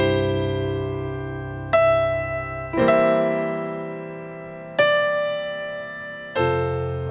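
Sustained chords ring out one after another, each struck on a keyboard and left to decay, with a passing chord of C dominant 7 over E moving through the progression; five distinct attacks, clear and close, no talking.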